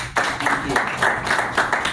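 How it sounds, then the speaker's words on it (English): A short burst of audience clapping after a talk, dense and steady at close range, with a few louder surges over its two seconds. "let's give Mr. Adams a round of applause and thank him"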